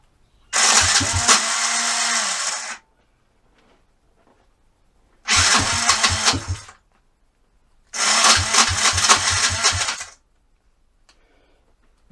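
A pit bike engine is cranked and started three times, each time running raggedly for about two seconds before cutting out, loud and close with silence between attempts.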